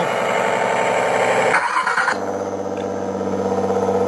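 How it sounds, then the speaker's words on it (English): An RC truck's engine sound module plays a tractor sound, starting with a short whirring squeal, then settling into a steady, rumbling idle, loud and up close. "Another tractor sound here, guys."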